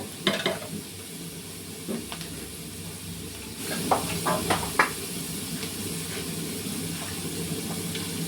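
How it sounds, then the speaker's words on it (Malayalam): Chopped onions with a spoonful of salt sauté in a pan for a coconut-milk kingfish curry, giving a steady low sizzle with scattered scraping clicks of stirring, close and alone without talk. "നമുക്ക് ഈ സവോളയൊക്കെ നല്ലോണം ഒന്ന് വഴറ്റിയെടുക്കാം"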